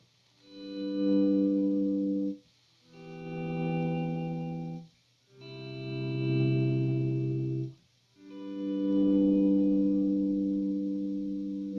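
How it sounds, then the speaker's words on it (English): Four ambient electric guitar swells, each note or chord faded in from silence with a volume pedal and sustaining with a soft tail before dropping off, shimmering with effects-unit echo and chorus. "you have your volume all the way down with the pedal like it is right now, and you pluck a note or strum a chord"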